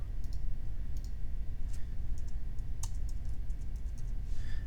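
Computer mouse clicks and a few key taps while copying and pasting code for an agent model, light and irregular over a steady low background hum.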